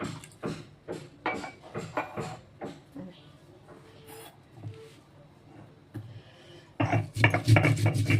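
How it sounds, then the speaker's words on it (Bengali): Spices being ground on a stone slab (shil) in a home kitchen, with rhythmic rubbing and scraping strokes, a quieter stretch midway, then louder vigorous grinding near the end. "আমি এবার মশলাটা বেটে নিই।"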